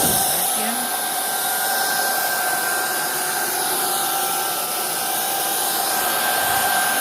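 A Proscenic cordless vacuum cleaner runs with a steady, loud whirring drone close by, holding an even pitch throughout without pause.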